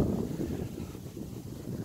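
Wind buffets the microphone outdoors on a gusty day at a shed building site, a steady low roar with rising and falling gusts and no other distinct sounds.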